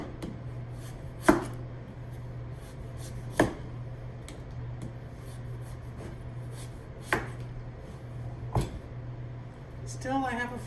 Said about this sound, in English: I'm always cutting away from myself